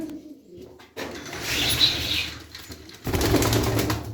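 Fancy pigeons, including Arab-type double-crested birds, coo softly amid a busy background of rustling and bird movement, with a few brief wing flutters, continuing steadily throughout.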